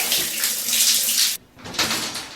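Shower water runs in a steady broad rush, briefly cutting off near the middle and then resuming.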